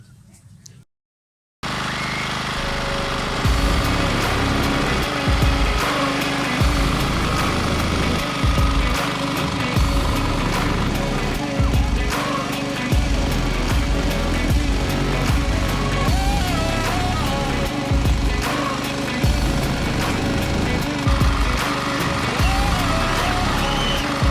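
A mini power tiller engine starts after a brief pause and then runs steadily and loudly, a continuous rough mechanical drone with rattling for the rest of the stretch, close by and dominating everything.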